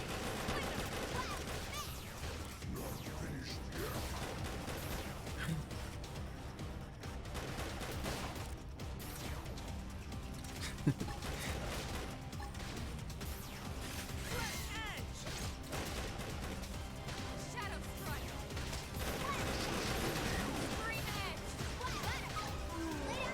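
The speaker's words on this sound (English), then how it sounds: "Having the minigun now." A minigun firing in the video game Xenoblade X, bursts of rapid gunfire and crunching impacts over busy battle noise, steady and fairly loud throughout, with talking mixed in.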